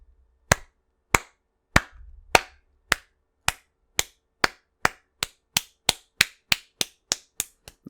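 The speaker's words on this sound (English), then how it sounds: "I'm clapping myself for reading that entire thing." A single pair of hands claps about sixteen times at a steady, quickening pace, each clap sharp and close, with no talking.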